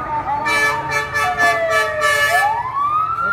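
An approaching fire engine heads to a house fire in Savannakhet, Laos. Its siren sweeps up and down loudly, with short repeated horn blasts layered over the wail.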